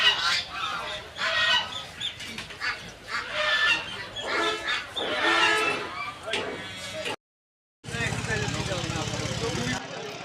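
Ducks and chickens honk, quack and cluck at the crowded Ashulia poultry market. Voices talk throughout, and the sound drops out briefly before the noisy birds return.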